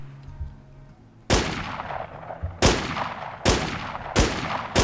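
Loud gunshots crack out in the zombie survival video game Infestation: Survivor Stories, four hard single reports spaced about a second apart after a quiet stretch of low background hum.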